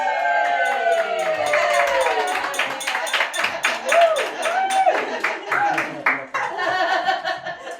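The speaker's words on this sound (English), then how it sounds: "Oh, round of applause!" At a Brighton Fringe comedy show, an audience claps in quick sharp bursts mixed with whoops, cheers and laughter, the applause swelling and thinning as excited voices ring out over it.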